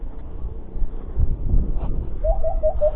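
A bird locally called saguksok in Bicol gives a few short cooing calls toward the end, faint and somewhat distant under outdoor wind noise.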